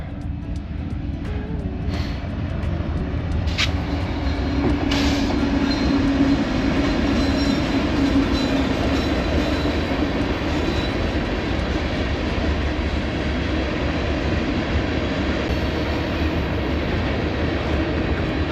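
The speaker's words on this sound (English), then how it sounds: "As soon as I said it, along came a train." A commuter train rumbles steadily past at close range, a loud continuous roar of wheels and cars with faint clattering, no voices.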